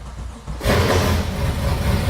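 A car engine with no exhaust fitted sputters, then catches and roars to life, running loud and raw with a rough, steady rumble close by.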